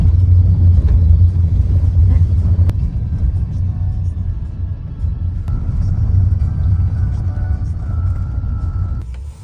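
Steady low road rumble inside a van on the way to a train station, a continuous droning hum with small bumps throughout, loud and close, with no talk over it.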